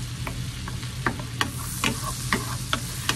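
Garlic sizzles in a hot pan for a shrimp dish, a steady frying hiss close up, broken by regular scraping clicks as it is stirred.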